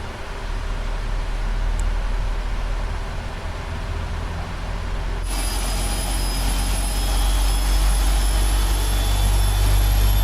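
Big Boeing 777 jet engines spooling up in a flight simulator game at Frankfurt, a steady loud roar that gains a thin high whine partway through, with no talk.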